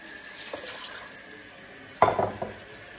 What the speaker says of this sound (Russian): Сначала кастрюльку промоем.